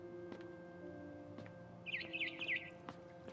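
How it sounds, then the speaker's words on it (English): A barn swallow chirps outside a window in the video game What Remains of Edith Finch, a short trilling series of bright calls over a steady low ambient hum and a few soft knocks. "heard chirping outside my window."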